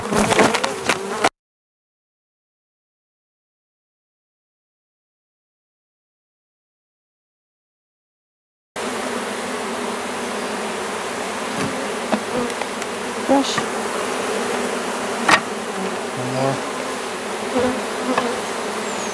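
A wild honey bee colony loudly buzzing as it is dumped into a new hive, a dense close swarm drone that cuts out briefly near the start and then returns steady for the rest.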